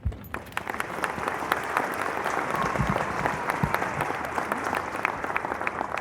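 Audience applause fills a graduation ceremony, a steady wash of many hands clapping at moderate loudness throughout, with no talking over it.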